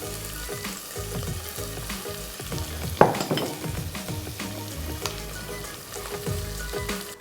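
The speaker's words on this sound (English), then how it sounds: "you really want to fry off that garlic and ginger paste and the onions well" Continuous loud sizzling of onions, garlic and ginger paste frying for keema polao, with occasional stirring clatter, one sharp scrape partway through.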